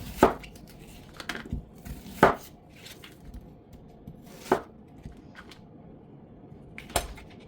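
A knife chops an onion on a cutting board for homemade chicken soup, a handful of distinct, unhurried knocks spaced a second or two apart, close and fairly quiet with no talking.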